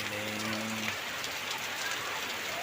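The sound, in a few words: heavy rain falling on a village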